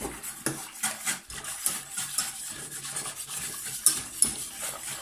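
Flan batter with corn starch being whisked quickly in a bowl, a steady scraping and clinking of utensil against the bowl with irregular rhythmic strokes, close and moderately loud, no voices.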